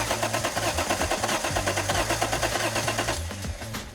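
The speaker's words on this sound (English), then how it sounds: "Just key it again. It might take a little bit for the fuel to get up." A $500 Nissan R31 Skyline's engine cranks over without catching, a loud, steady, fast rhythmic churn lasting about four seconds that fades slightly at the end, with no talking.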